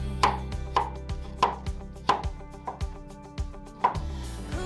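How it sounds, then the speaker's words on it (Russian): Peeled tomatoes are diced into cubes with a knife on a cutting board: about eight crisp, evenly paced chops, close and clear with no talking. "Заранее очистив от кожуры помидоры, нарезаем их кубиками"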